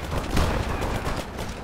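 Dense rattling gunfire from a World War II real-time strategy battle in War Alert WWII, a continuous close clatter of overlapping shots that holds steady throughout without pauses.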